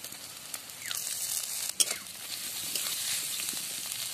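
Spice paste sizzles and fries in a pan with a steady hissing crackle, broken by stirring scrapes and one sharp clink, while someone talks quietly.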